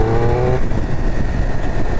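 Triumph Speed Triple 1200 RS motorcycle engine pulling hard from low revs on a road ride, a loud, steady, close roar with wind rush and no talking.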